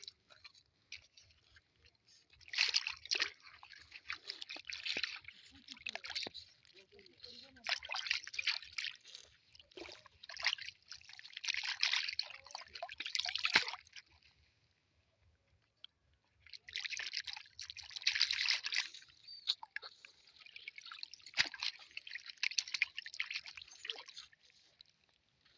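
River water trickling and splashing near a dam while a plate is washed by hand, in repeated bursts of close, wet rinsing with brief pauses between.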